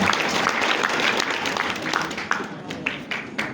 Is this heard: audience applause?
yes